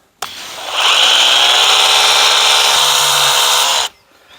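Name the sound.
Ryobi pressure washer spraying rinse water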